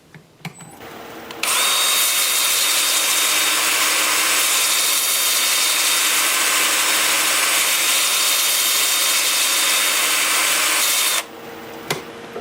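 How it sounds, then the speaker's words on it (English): Steady, loud high-pitched whir of a lathe spinning at 350 RPM while a 2-inch sanding disc works a small wood scrap, running continuously for about ten seconds before cutting off. "I'll have the lathe spinning forward and reverse alternating at 350 RPM"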